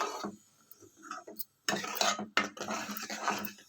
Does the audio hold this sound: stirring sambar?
yes